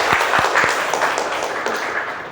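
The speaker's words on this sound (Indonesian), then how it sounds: "Berikan tepuk tangan untuk Wahyu." Brief classroom applause for a student, a few distinct claps at first before blending into a short wash of clapping that tapers off within two seconds.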